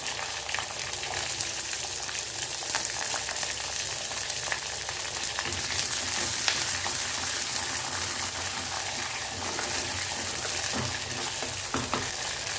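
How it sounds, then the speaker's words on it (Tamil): Small sambar onions sautéing in oil with garlic, a steady broadband sizzle with occasional stirring scrapes, close and continuous with no talking. "சாம்பார் வெங்காயம் நல்லா வதங்கி வரட்டும்."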